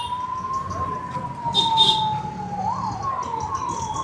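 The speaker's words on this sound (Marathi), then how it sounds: "आता ही अग्निशमन दलाची गाडी कुठेतरी एका जागेवर ठरलेल्या जाईल" A fire brigade truck siren wails at a Shiv temple fair during Mahashivratri, a steady tone rising briefly near the end, loud and near over a bustling crowd.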